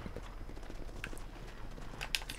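Horse hooves clip-clopping in the video game Red Dead Redemption, a soft, steady run of hoofbeats at low volume with a brief brighter sound near the end.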